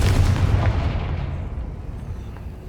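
A Confringo fire spell blasts in Hogwarts Legacy, a loud booming burst with a heavy low rumble that decays steadily over a couple of seconds, with no voices.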